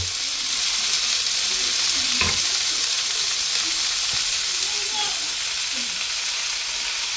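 Chard leaves tossed onto softened onions in a hot pan give a continuous loud sizzle and crackle with a few utensil taps and stirring knocks, close and steady.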